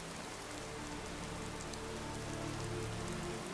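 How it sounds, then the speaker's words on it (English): Light rain falls steadily in the video game Skyrim, a soft continuous patter on surfaces with faint low ambient tones beneath, alone and without voices. "Starting to get a little darker out with like a slight amount of rain."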